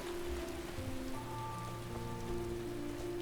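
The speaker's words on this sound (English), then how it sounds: "Oh, the rain is clearing." Steady rain falls in Skyrim, a soft continuous patter on surfaces with a low ambient hum beneath, no voices.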